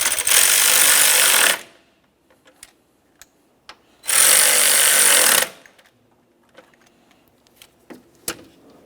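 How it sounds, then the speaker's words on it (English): A power tool tightens the radiator fan mounting bolts on a 2012-2015 Honda Civic 1.8L I4. Two loud, close whirring bursts of about a second and a half each are separated by quiet shop clicks and small knocks. "we're going to start in our two mounting bolts and snug them up."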